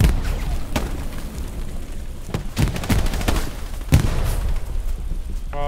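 Grenade blasts and gunfire in the infantry shooter Hell Let Loose, scattered sharp shots and booming hits of varying distance over a rumbling battlefield bed.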